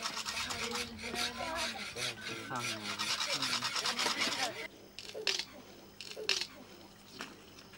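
Wild boar jaw used as a carpenter's tool, scraped repeatedly across wood in the Amazon rainforest, giving rhythmic rasping strokes close up, then a few sharper scrapes with a faint voice in the background.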